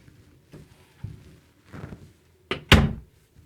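A coat closet door in a home is swung shut, landing as a solid thunk with a short rattle, preceded by softer bumps and handling noises nearby.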